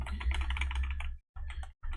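Rapid clatter of keys on a computer keyboard, a dense burst of typing followed by two shorter bursts separated by brief pauses, close and clear with no talk.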